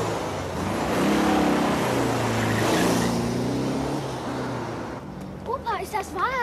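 A car pulls away and drives off, its engine noise loud at first and then fading into the distance, followed by a few short chirpy sounds.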